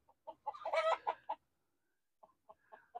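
Chickens cluck inside a village hut in short, quiet bursts. A brief flurry of clucks is followed by silence, then a few sparse clucks close by.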